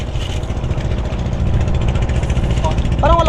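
The engine of Raptor, a wooden boat under construction, runs rough and uneven, a low, close, rumbling chug with a faltering beat, while voices talk over it.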